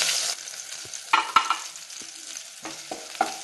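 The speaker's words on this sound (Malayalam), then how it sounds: "ഇഞ്ചി ചതച്ചതും വെളുത്തുള്ളി ചതച്ചതും പച്ചമുളകും ഇട്ട് നന്നായിട്ട് വഴറ്റണം" Crushed ginger, garlic and green chili are stirred with fennel seeds in a hot pan. A soft, steady sizzle is broken by several sharp scraping stirs of a spoon, close up, with no voices.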